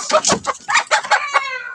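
A hen clucks in a quick series of close, loud, choppy calls, several short bursts ending in a drawn-out squawk.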